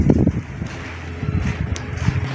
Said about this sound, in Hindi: हवा चल रही है जी ठंडी ठंडी।